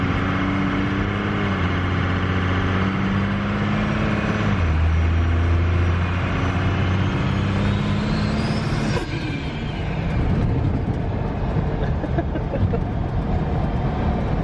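A Cummins diesel truck engine needing new injectors revs at quarter throttle, a loud, close, continuous drone whose pitch climbs and settles, then gives way to a rough rumble.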